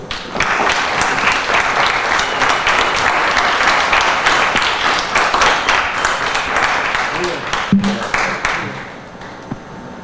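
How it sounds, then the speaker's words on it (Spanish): Audience applause at an academic conference session, a dense, sustained crowd clapping lasting most of ten seconds before fading, with some voices underneath. "le brindamos un fuerte aplauso"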